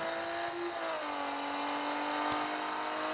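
A car engine in a driving video game drones steadily at a constant, buzzing pitch, with a slight shift in tone partway through, heard alone.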